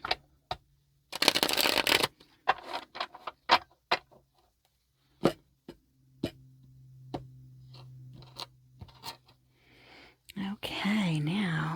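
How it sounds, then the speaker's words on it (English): Tarot cards shuffled and cut in close, quiet bursts: a long riffling flurry, then a string of crisp single snaps and taps with brief pauses, ending in a rustling stretch near the end. "And we're going to shuffle and cut number 3."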